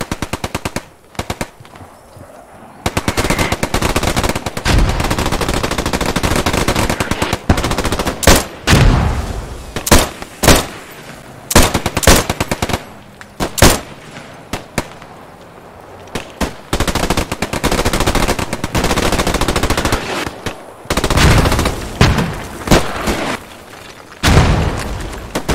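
Machine guns in the Post Scriptum combat game hammer out repeated loud, close bursts of rapid gunfire, with short pauses between the strings of shots and occasional heavier booms.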